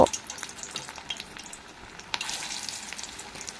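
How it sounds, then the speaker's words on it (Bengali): Egg and onion chops fry in hot oil with a steady crackling sizzle, close and moderately loud, with a brief louder spatter partway through. "এইভাবে আমি তেলে আবারও ছেড়ে দিচ্ছি একইভাবে ভেজে নিয়েছি"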